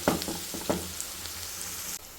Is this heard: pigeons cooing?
no